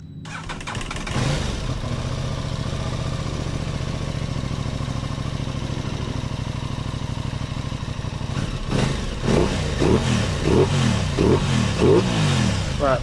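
An Aprilia Tuono 660 motorcycle engine starts and idles steadily up close, then is throttled through a series of sharp, quick revs near the end, after a fix for poor throttle response.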